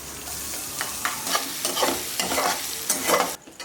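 Garlic and chili hitting hot oil already tempered with whole cumin, dried red chilies and bay leaf for a Bengali kochur shak with fish head, sizzling and crackling steadily while a spoon stirs in quick scraping strokes, close and fairly loud.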